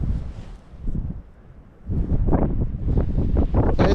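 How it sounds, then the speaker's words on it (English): Strong coastal wind buffeting the microphone on a cliff path along the Jurassic Coast, loud and continuous rumbling gusts that ease briefly and then surge again, with no talking. "There's too much wind, cue the music."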